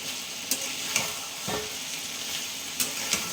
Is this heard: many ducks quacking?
no